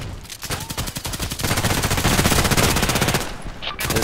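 Rapid automatic gunfire from an RFB rifle in the shooter game Contract Wars, loud, sustained bursts of closely spaced shots that briefly pause and resume near the end.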